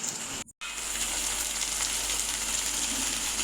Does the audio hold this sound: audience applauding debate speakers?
no